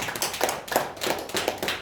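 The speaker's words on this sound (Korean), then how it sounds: "이 아이들 다시 박수를 한번 좀 격려했으면 좋겠습니다" A church congregation claps to encourage children who sang, a short burst of close, rhythmic hand claps in a small room.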